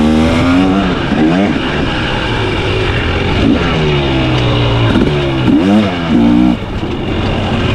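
A 2023 KTM 300XC TBI dirt bike engine drones loudly in third gear with wavering pitch as it rides along at Crow Canyon, rising and easing in short surges, with wind and rough background noise.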